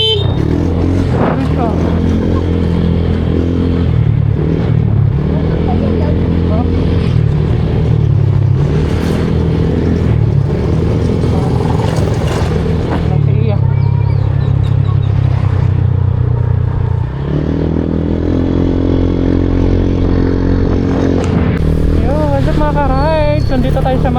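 Heavy road traffic on a highway in Mindanao, Philippines, with cars and motorcycles idling and revving close by in a steady, loud rumble throughout, while someone talks over the engine noise.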